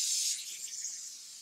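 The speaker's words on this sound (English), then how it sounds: "And then you're just going to spray it." Acrylic sealer sprays from an aerosol can onto a vintage suitcase in a steady, soft hiss that stays close and fairly quiet throughout.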